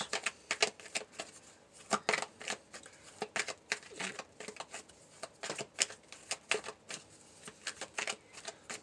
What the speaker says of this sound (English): let's pull some cards for clarity here for you